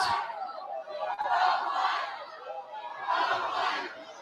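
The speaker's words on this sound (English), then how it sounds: "a go green, go white chant echoing across the crowd, being drowned out by boos" A large crowd at a Michigan vs. Michigan State volleyball match roars in a loud, sustained wash of chanting and booing voices that swells twice without any break.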